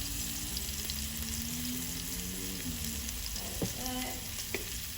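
Seasoned ground meat sizzles steadily in a hot pan as stuffing for bell peppers, with occasional scrapes and clinks as it is stirred around.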